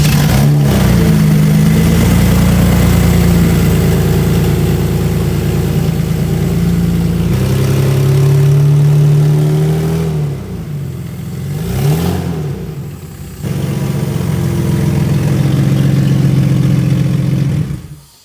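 A Lamborghini Diablo V12 fires up for the first time with the bonnet open, settling into a deep, loud idle broken by several sharp revs that rise and fall before returning to a steady rumble.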